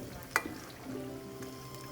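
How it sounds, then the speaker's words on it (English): Cauliflower frying in oil with a soft continuous sizzle, a sharp clink of a utensil near the start, quiet and close. "let the cauliflower fry nicely in the oil"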